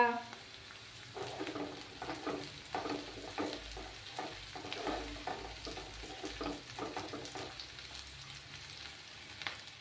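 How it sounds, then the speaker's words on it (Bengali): Onions frying in a pan until golden, a low steady sizzle broken by repeated short scraping and stirring strokes in a loose rhythm. "পেঁয়াজের সোনালি কালার না আসা অবধি আমি পেঁয়াজগুলোকে ভেজে নেব"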